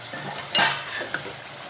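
Drumstick pods go into a prawn curry masala sizzling in a pan and get stirred, a soft steady frying hiss with a couple of sharp scraping stirs, close and quiet with no talking.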